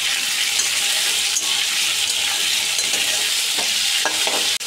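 Potatoes frying in oil with salt in a pan, a loud continuous close sizzle with occasional stirring scrapes and no talking.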